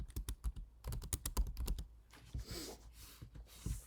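Computer keyboard typing and mouse clicking while drawing in a graphics program: a rapid run of crisp, close key taps, then a pause and softer scattered clicks, quiet and with no voices.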